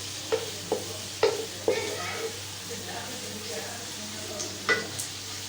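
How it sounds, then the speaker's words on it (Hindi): Chinese-style rice ingredients are stir-fried in a pan, giving a soft, steady sizzle under several sharp spatula knocks and scrapes against the metal, close by. "बस इसको हम 2 मिनट तक ना ऐसे भूनेंगे"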